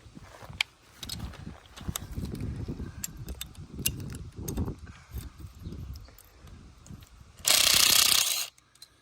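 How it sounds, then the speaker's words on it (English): A pulley being dismantled while rigging a cable and winch to hang a deer feeder, giving close metallic clicks, ratchet-like ticks and clanks in an irregular rhythm, then a loud burst of rushing noise near the end. "Take my pulley apart."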